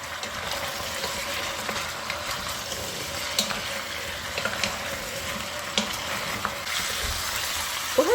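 Meat for Iraqi tashreeb frying in a pot, a soft continuous sizzle with occasional scraping stirs and small clicks of a utensil.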